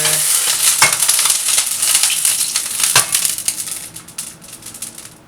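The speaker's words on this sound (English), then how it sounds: "Throw that butter in there." Butter sizzling in a pan on medium heat before a steak goes in, a bright hissing fry with a couple of sharp clicks and crackles, tapering off toward the end.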